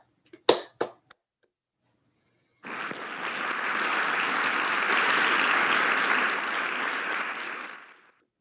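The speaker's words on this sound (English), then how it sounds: "let's just have one last giant round of applause for all your newly elected KUNA presiding officers" A large assembly of delegates bursts into loud, sustained applause after a few sharp isolated sounds and a pause, the dense clapping holding steady for about five seconds before cutting off.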